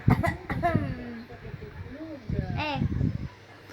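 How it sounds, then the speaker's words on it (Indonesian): A young child coughs in a few short, harsh bursts, with an adult voice speaking close by between the coughs. "Batuk lagi nak. Batuk dulu nak."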